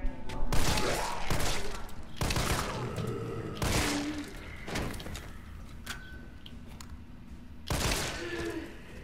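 Gunfire from a shooter game, Resident Evil 3 Remake, as zombies are shot: several loud, close blasts spaced a second or two apart over a dark rumbling backdrop, with scattered impact thuds between shots.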